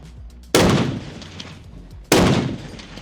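Rifle gunfire in a video game: two loud, sharp shots about one and a half seconds apart, each ringing out with a decaying tail, close and dominant with no talk over them.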